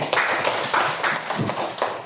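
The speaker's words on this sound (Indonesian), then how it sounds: "Angkat tepuk tangan untuk Fatir" Classroom applause for a student in an Islamic religious education lesson, a burst of many hands clapping together, close and fairly loud, with uneven swells across two seconds.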